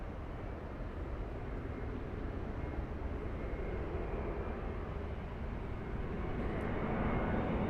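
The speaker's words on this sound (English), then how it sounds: "Arriving right now, we have Delta 634 flying in from Detroit, Michigan. That's an A321neo." A Delta Airbus A321neo jet arriving at LAX, a steady broad roar of engines and airflow holding close and loud throughout, swelling slightly near the end.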